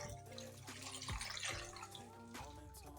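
Water poured into a cooking pot while preparing a Cameroonian cassava dish, a short splashing, gurgling pour with a few drips, close and moderately loud, with no talk.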